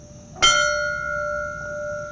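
A church bell at a 9/11 memorial in Middletown strikes once, loud and clear, its rich tone ringing on and slowly decaying over quiet surroundings.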